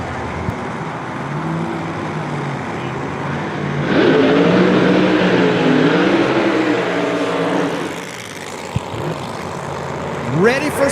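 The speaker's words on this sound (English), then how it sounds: "Ready for some rumble. It's coming from the pipes. Big block Chevy with a centrifugal supercharger underneath that yellow Mustang body" A big block Chevy funny car with a centrifugal supercharger under a yellow Mustang body rumbles at a drag strip, its engine swelling to a loud roar midway and then easing off, with an announcer talking over it.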